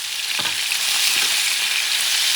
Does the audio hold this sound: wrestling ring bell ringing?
no